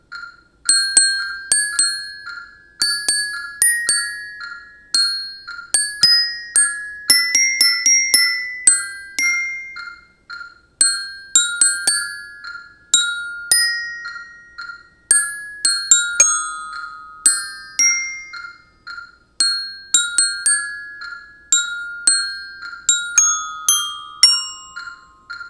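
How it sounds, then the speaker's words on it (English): Orchestra bells struck lightly with aluminum mallets play a bright, ringing melody in quick repeated phrases, clear and close with no talking. "You want to use a light touch on bells, and I'm using these aluminum mallets"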